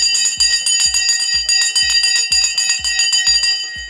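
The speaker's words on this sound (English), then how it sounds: "The bell has now gone." Stock market opening bell ringing in a steady run of about a dozen loud, bright metallic strikes, each with a shimmering ring that carries over into the next, with no pause through the whole stretch.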